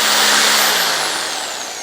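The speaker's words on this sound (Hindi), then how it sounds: "और फिर मैं ड्रिल को चला देता हूँ।" An electric drill running from a home inverter gives a loud, steady motor whir. Its pitch slides slowly downward over a brief stretch, with no talking.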